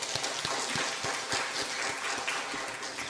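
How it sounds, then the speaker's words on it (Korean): A church congregation applauds during a Sunday morning service, a short burst of scattered, moderately loud handclaps with a few sharper individual claps standing out, with no talking over it. "우리 박수하겠습니다."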